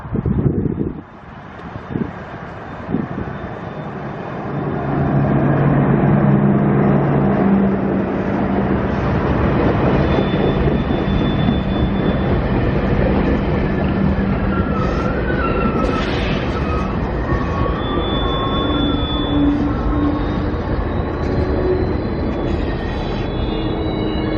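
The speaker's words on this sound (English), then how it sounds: "the southbound Spirit of Queensland from Cairns to Brisbane is now arriving in Tully" The southbound Spirit of Queensland passenger train arrives at Tully station, a sustained loud rumble and rush of rail noise with wind buffeting, faint squeals and tonal whines rising above it.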